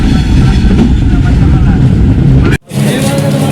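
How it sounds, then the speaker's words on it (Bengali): The Sundarban Express 726, a 13-coach passenger train on the Dhaka to Jessore route in Bangladesh, rumbles loudly and steadily, with a brief sharp dropout near the end before the heavy running noise resumes. "এই ট্রেনটা আসার সময় ছিল 10টা 40-এ, কিন্তু ট্রেনটা প্রায় 50 মিনিট লেট করে এখন আসছে"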